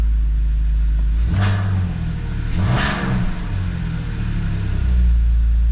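A BMW E46's engine revs twice in quick succession, rising and falling with a deep, throaty exhaust rumble through freshly welded, leak-free headers that stays loud and close.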